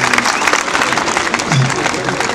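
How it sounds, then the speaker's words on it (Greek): Audience applause welcoming a speaker at a Greek protest gathering against the citizen card, a dense, steady wash of clapping with crowd murmur and some voices mixed in. "Τον καλωσορίζετε με το δικό σας χειροκρότημα"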